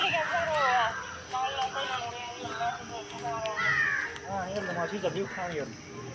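Crows cawing outdoors on the way to a sports ground where a game is being played, several harsh calls rising above steady chatter as people talk close by.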